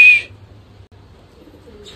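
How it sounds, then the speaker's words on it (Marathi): A pigeon coos once, loud and close at the start, then fades into a low rhythmic hum with a faint call near the end. "तो एक कबूतर आलंय रिटर्न"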